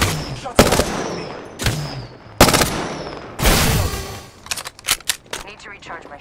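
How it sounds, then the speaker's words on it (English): Apex Legends gunfire comes in loud, sharp bursts and single cracks, closely spaced with short gaps, and a few quicker rattling shots near the end. "Shots fired at me."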